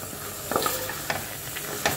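Minced meat sautés in a little oil with chicken gravy masala, giving a steady close sizzle broken by a few sharp stirring scrapes, with no talking.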